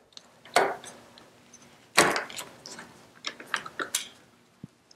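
A harness strap is slid off a seat back, giving a few brief scraping and clicking sounds with short rustles between them, close and fairly quiet.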